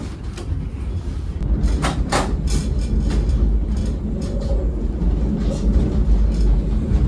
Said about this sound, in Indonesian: Kereta yang keluar masuk di terowongan ini.